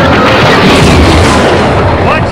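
Explosion sound effects in a Star Wars stop-motion space battle scene, a loud dense wall of rumbling blasts and booms, continuous and close, with voices mixed in.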